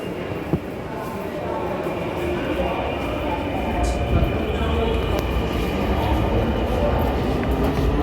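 A steady rumble and whine of a moving metro train in Dhaka, from Uttara to Agargaon, fills the carriage, continuous and close, with a low murmur of voices beneath.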